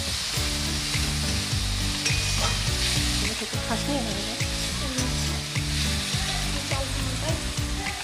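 Washed moong dal is stirred into a sizzling spice masala in a pan, producing loud, close frying hiss with repeated scraping and clattering of a spoon against the pan, and no voices.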